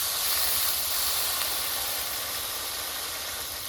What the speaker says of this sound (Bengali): তো জলটা দেখতে পাচ্ছ ফুটে উঠেছে